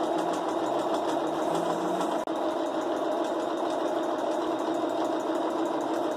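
A sewing machine runs continuously while stitching the edge of a fabric patchwork placemat, a steady fast whirring buzz heard close with one brief click partway through.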